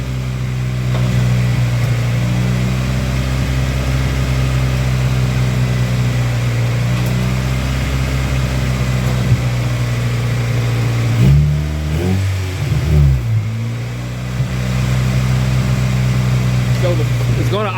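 An Acura Integra engine, freshly fitted with a new water pump, runs at a steady, slightly fast idle with a strong low hum and brief blips midway, while someone talks over it.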